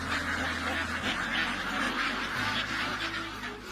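Pekin ducks of the Peking Star 13 breed on a farm, many birds quacking in a dense, continuous chorus with overlapping calls throughout, steady and fairly loud.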